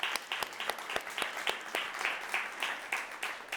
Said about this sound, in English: I would love for you to give yourselves a round of applause for the work that you do.